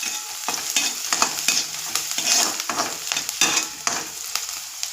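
Oil poured into a pan on a gas stove for a capsicum and potato bhaji sizzles and crackles, a close, steady frying hiss punctuated by quick spattering pops and stirring scrapes.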